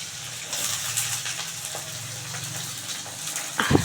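Onion and potato hiss and sizzle in hot oil seasoned with black cumin for a Bengali mixed-vegetable dried-fish curry, a steady close frying noise with a brief clatter at the end.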